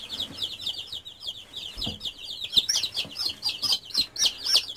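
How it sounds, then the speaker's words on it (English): Young chicks in a brooder give a steady run of high, thin peeps and soft clucks, close and continuous with a few brief handling knocks underneath. "They're pretty little birds."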